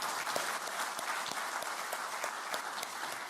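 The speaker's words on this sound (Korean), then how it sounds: "대통령님께도 박수 한번 쳐드릴까요?" Audience applause fills a hall at a political workshop, dense steady clapping with a few sharper claps, moderately distant and without talk.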